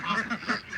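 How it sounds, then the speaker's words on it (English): A full-grown white Tractor Supply duck quacks in a quick series of nasal calls, close and clear, with a voice faintly mixed in. "Remember my little white Tractor Supply duck?"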